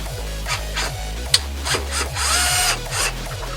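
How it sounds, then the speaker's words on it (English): A screw is being driven out during removal of a car speaker, with rhythmic ratcheting turns and light scraping repeating about every half second, one sharp click midway, close and clear. "We'll just take this and unscrew it."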